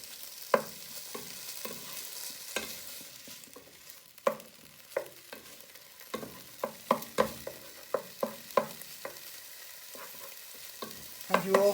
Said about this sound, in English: when it starts to cook and get nice and brown on the meat